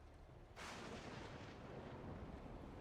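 A thunderclap in the video game Final Fantasy XIV Dawntrail: a sudden, quiet crack that breaks from near-silence into a sustained, rumbling roll lasting a couple of seconds, with no voices.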